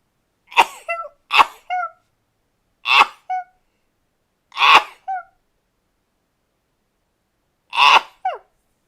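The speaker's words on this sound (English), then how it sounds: "sneezing no longer causes me severe pain, which means I'm sneezing again" A person sneezes and coughs in a series of sharp, close bursts, several quick ones at the start and more spaced out over the following seconds, with silence between them.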